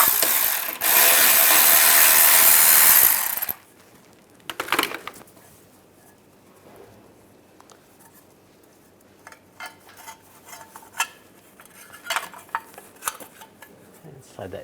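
A 13mm socket wrench ratchets against a bolt holding a shield on a 2007-2013 Chevrolet Silverado, with a long, loud burst of rapid clicking at the start, then quieter scattered metallic clinks and taps.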